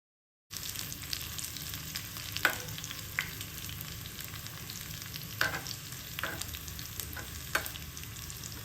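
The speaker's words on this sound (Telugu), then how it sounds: "బాగా వేగిపోయింది వెల్లుల్లిపాయ." Garlic fries in a pan for sambar tempering, a steady close sizzle with occasional sharp clinks and stirring scrapes of a spoon against the pan, with no talking.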